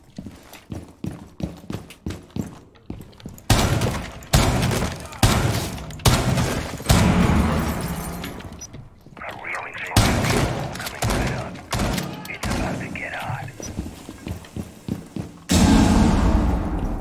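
Gunfire in the Siege video game comes as bursts of sharp cracks and thuds, some isolated shots and some rapid volleys, close and loud, with brief pauses between exchanges and talk here and there.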